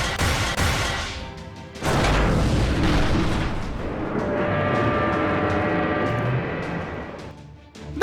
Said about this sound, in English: preparing to pierce the mirror's base with a bunker bolt